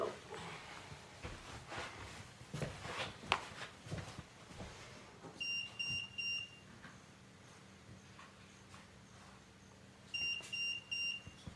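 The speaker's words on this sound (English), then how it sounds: "I'm fine with the meter next to me going off when everybody else is in here" A meter gives bursts of rapid high-pitched electronic beeps in two separate short series, fairly faint in a quiet room with low background noise and some soft knocks.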